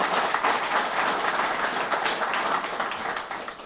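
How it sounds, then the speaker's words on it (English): An audience at a HUD press conference applauds steadily, a dense, moderately loud wash of clapping that holds for several seconds and tapers off slightly at the end. "Could you all give her a nice round of applause?"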